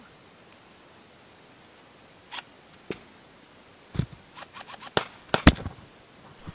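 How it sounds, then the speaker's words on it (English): Scattered blank gunfire during a milsim airsoft game, sharp distant cracks starting sparse then bunching into a quick irregular volley near the end over quiet background. "I'm pinned by blank fire"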